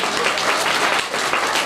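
An audience at a Gurukul school annual function claps loudly in a dense, continuous burst of many hands, close and full, lasting under two seconds.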